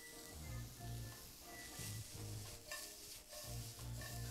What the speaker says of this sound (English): I'm going to just saute this.